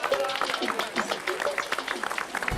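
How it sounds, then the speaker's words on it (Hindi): Scattered, lively hand clapping from a studio audience for Anjali on a sitcom set, crisp individual claps at an uneven rhythm, moderately close. "अंजलि के लिए तो मैं खुद तालियां बजाता हूँ"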